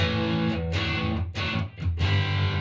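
Electric guitar played through the distortion setting of a Valeton GP-200 multi-effects unit, giving a thick, saturated tone of sustained chords and notes that ring alone and steadily, with a couple of brief dips between phrases.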